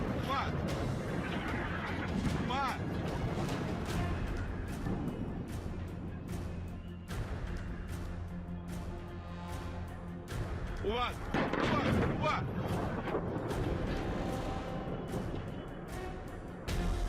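Rockets and gunfire echoing over Beirut's southern suburbs after a ceasefire takes effect, dense continuous rumbling bursts and cracks heard at a distance, with a voice speaking over them.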